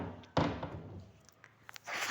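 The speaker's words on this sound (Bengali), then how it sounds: "জানালাটা লাগিয়ে দিই" A window is pulled shut indoors on an upper floor of a building, with one sharp thud near the start, a few faint knocks and rattles after it, and a rustling swell toward the end.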